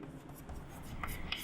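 A pen scratching across paper in steady, close strokes, quiet and continuous, with a few sharper scrapes near the end and no talking over it.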